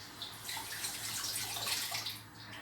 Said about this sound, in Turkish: bir saniye ellerimi yıkayayım